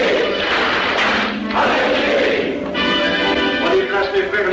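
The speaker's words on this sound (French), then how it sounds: "À moi mes frères, par le signe, la triple batterie et l'acclamation." Lodge brothers at a Masonic initiation in Paris clap the triple battery and shout the acclamation together, a loud crowd of voices and claps that fills the room.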